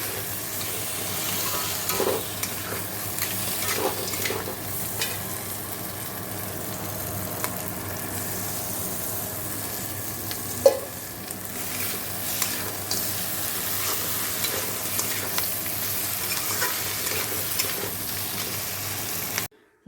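Crab curry sizzles and is stirred in a pan, a soft, continuous frying hiss with occasional scraping and one sharp clink, close by and without speech.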